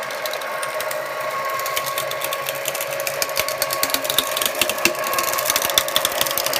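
A Teresa Collins Cut'n'emboss machine die cutting paper, giving a steady mechanical whir with a dense run of small ticks and clicks that grow slightly busier toward the end, close and moderately loud.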